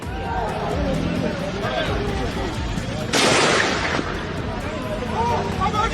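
A crowd shouts over a chaotic din of sharp gunshots and bursts during unrest in Pakistan-administered Kashmir, with a loud burst of noise about halfway through.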